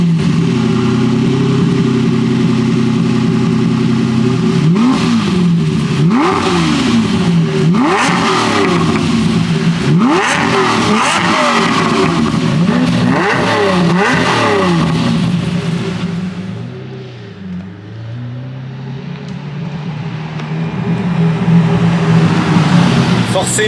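A Lamborghini Murciélago LP-580 with a V12 engine and manual gearbox revs hard inside a tunnel, its loud rising and falling roar echoing off the walls before easing to a lower drone and swelling again.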